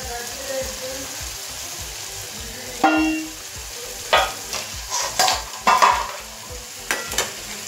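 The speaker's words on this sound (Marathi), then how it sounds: "व्यवस्थित कढईमध्ये मसाले भाजून घ्यायचे" Ground spices, among them onion-garlic masala, chilli powder, coriander, turmeric, chicken masala and cumin, sizzle and fry in a kadhai for chicken curry while a spoon scrapes and clanks against the pan in short bursts, close and clear, with no voices.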